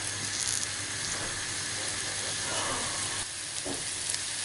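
Onions, garlic and ginger sauté in a pan for a chicken curry, giving a dense, steady close sizzle with occasional stirring scrapes and a low background hum.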